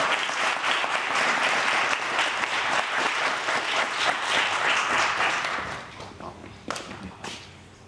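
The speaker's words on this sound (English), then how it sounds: "Would you give him a round of applause?" A conference audience at a community violence intervention leadership academy gives a sustained round of applause, loud and dense for several seconds, then thins into scattered claps and fades out near the end.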